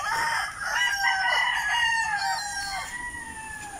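Young chickens in a small backyard coop chirp and cluck in a busy overlapping chorus, with thin crowing-like calls, close and moderately loud, with no speech.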